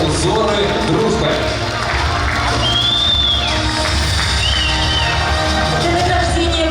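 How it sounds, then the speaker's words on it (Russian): An audience gives dense, sustained clapping and cheering for contest laureates at an awards ceremony in the city palace of culture in Ufa, with voices and shouts mixed into the noise. "Еще раз бурные аплодисменты"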